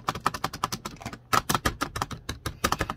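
Rapid, uneven clacking of a single keyboard key, a gaming jump button hammered over and over, close and crisp, with short bursts and brief pauses.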